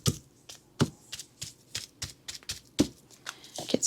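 Paint dabbed repeatedly across 12x12 scrapbook paper to build texture, giving a string of soft, close taps and brushy dabs in an irregular rhythm with no talking.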